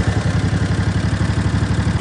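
A riding lawnmower's engine runs at a steady, close, rhythmic idle with a throbbing chug right after the key is turned.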